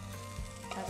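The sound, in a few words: frying chilli in a pan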